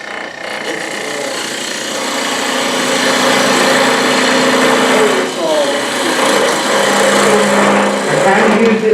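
A power tool spins a bit as a drill during a workshop demo, a steady high whine that grows slightly louder and shifts pitch midway as it bites into the material, close and continuous.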